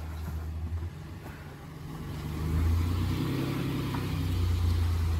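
Nissan Frontier pickup truck driving away, a steady mid-pitched engine drone that grows louder and rumbles on, with no talk.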